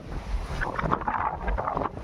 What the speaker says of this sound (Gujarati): પવન એટલો બધો હોય કે કાંઈ રહેતી નથી